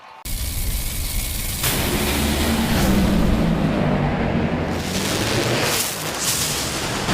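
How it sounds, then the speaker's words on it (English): Drag racing car shredding a tire at the top end of the strip: a loud, sustained roaring burst, broadband and booming, rolling on for several seconds. "a massive explosion at the top end as Coletta's car shredded a tire going across the finish line"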